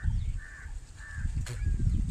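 In a village outdoors, birds give a few short harsh calls, spaced apart and moderately close, over a heavy rumbling wind-like background noise with a brief sharp burst near the end.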